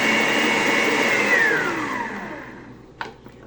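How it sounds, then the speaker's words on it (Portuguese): An electric mixer beats unsalted butter for red velvet cake frosting: a steady, loud whirring drone that slowly winds down and fades, followed by a couple of short knocks near the end. "E vou bater tudo isso até ficar uma mistura bem homogênea"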